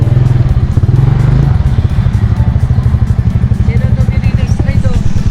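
A motorcycle rumbles loud and close over a rough road, its engine thudding steadily with clattering and rattling from the bumpy surface. Voices are faintly present.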